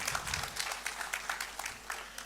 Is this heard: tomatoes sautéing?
no